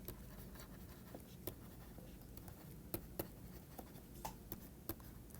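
Chalk or pen writing on a board during a mathematics lecture, quiet scratchy strokes with a few sharper taps and clicks, steady and close, no talking.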